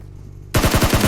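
A rapid burst of automatic gunfire in PUBG Mobile bursts in after a quiet half-second, with loud, evenly spaced shots close to the listener.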